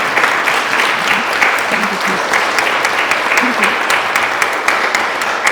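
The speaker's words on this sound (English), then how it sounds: "We can clap for the men, of course." An audience at a women's celebration event applauds the men in the room: dense, steady clapping from many hands fills the space close by, continuous without pauses.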